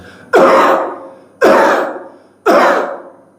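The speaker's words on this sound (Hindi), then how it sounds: "तो हमने जोर जोर से खांसना है।" Three loud, deliberate coughs, each a sharp harsh burst that fades over about a second, spaced roughly a second apart and close to the listener, with no talk between them.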